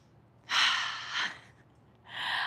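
Two breathy breaths during a kneeling yoga stretch for the foot fascia, a long inhale then a shorter one after a pause, close and clear with no talking.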